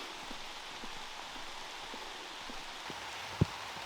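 Steady rain falls at the edge of a forest as a soft, even hiss with scattered faint drip taps and one sharper close tap near the end, and no voices.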